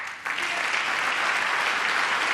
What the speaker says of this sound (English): I'm going to count the number of seconds that they stand and clap.